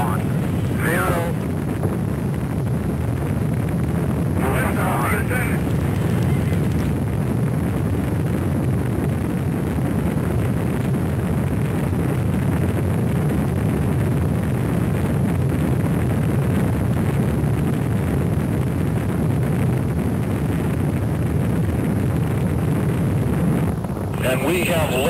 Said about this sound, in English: we have liftoff of America's first space shuttle